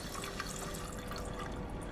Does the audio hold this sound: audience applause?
no